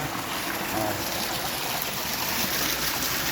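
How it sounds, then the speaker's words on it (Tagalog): Water from a fountain feature on a second-floor swimming pool runs in a steady, continuous trickling splash, fairly close and even throughout with no voices over it. "gumagana na yung fountain, yung pulse"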